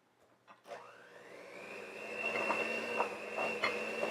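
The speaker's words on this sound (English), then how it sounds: "And then we're going to mix this up with a beater." An electric beater mixing sugar into white frosting, starting with a clunk and then a steady motor whine that rises in pitch and holds, with rhythmic knocks as the beaters hit the bowl.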